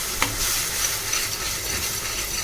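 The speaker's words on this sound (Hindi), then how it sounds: "और ये पेस्ट है प्याज, टमाटर, लहसुन और हरी मिर्च। और थोड़ा सा इसमें इसे पका लेंगे।" Paste of onion, tomato, garlic and green chilli cooking in a pan, a steady loud sizzle with hissing steam and a faint scrape of stirring, continuous and close with no voices.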